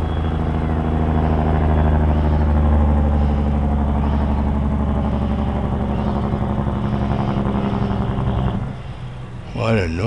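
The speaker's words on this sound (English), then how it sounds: "What a noisy truck that was." A loud, low truck engine rumbles steadily up close for several seconds, then drops away as the truck passes and a voice speaks briefly.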